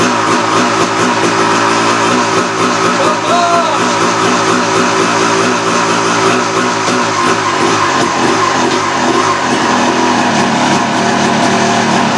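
A 1991 Honda CR250R two-stroke motocross bike engine running after a rebuild and carburetor refit, a loud, close, continuous engine drone with wavering pitch across the whole stretch.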